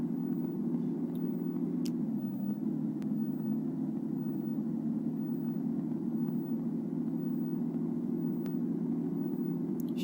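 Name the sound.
city bus engine rumbling in the video game Bus Simulator Ultimate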